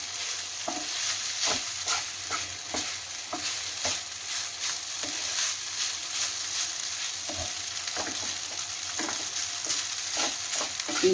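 Peas pulao with only green peas and no spices cooking in a pan, a steady broadband sizzle with repeated scraping stirs at an irregular rhythm, close and fairly loud, no voices.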